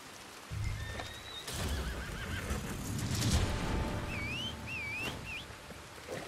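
A horse in the video game Red Dead Redemption 2 Online whinnies with a rising and falling call over rustling background noise, followed by shorter neighs and snorts, fairly close.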